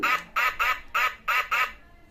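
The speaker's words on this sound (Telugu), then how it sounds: "తర్వాత బాతు" Six quick, loud duck quacks from a rabbit-shaped toy phone's speaker, sounding in short bursts with brief gaps between them.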